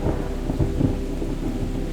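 Low rumbling thunder rolls through a rainstorm, with steady rain noise around it and no voices.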